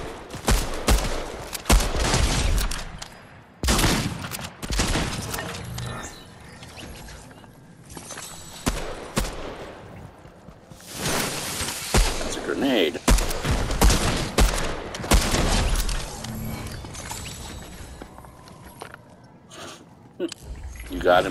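Rapid gunfire bursts and single shots crackle from a shooter video game, coming in loud clusters and lulls throughout, with players talking over the action.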